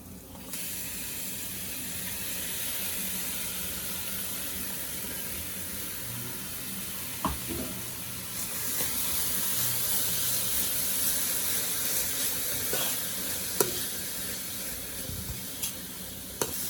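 Banana flower fries in a pan with onion, garlic, cumin and pepper, giving a steady, close hiss and sizzle throughout, with a few small clinks of a utensil and no talk.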